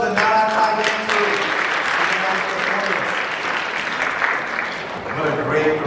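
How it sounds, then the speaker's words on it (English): Audience applause at a Songkran Thingyan celebration program, a sustained wash of clapping from a crowd that swells and eases slightly, with a voice speaking over it. "Let's give one more round of applause"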